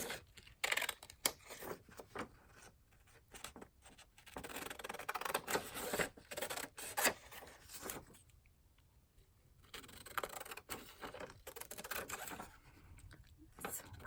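Scissors trim around a piece of collage paper with irregular bursts of close snipping and rustling, pausing briefly between cuts.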